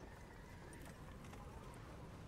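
Horse hooves clip-clop steadily in the video game Red Dead Redemption 2, a soft continuous trotting rhythm under a quiet, dense ambient bed, fairly faint and without voices.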